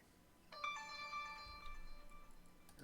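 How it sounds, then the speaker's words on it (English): A phone ringtone plays alone for about two seconds, a steady melodic tone with clear harmonics, fairly quiet, over a faint background with a brief low thump partway through. "Here's my phone telling me to shut up."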